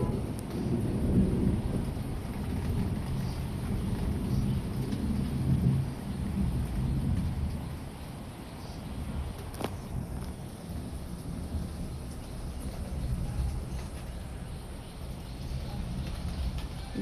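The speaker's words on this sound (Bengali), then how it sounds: "বৃষ্টি আসতেছে এখন, দেখতেছেন শো শো করে আওয়াজ হচ্ছে।" Steady heavy rain pours throughout a storm in rural Bangladesh, with a dense broadband roar and gusty wind, a deep rumble of thunder low underneath and one sharp crack near the middle, no talking.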